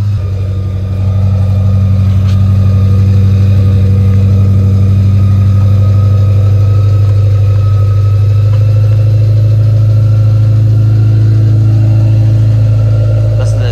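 A supercharged Honda S2000 engine idles close by, a loud, steady low rumble with a faint whine above it that holds evenly for the whole stretch, with no revving and no talking.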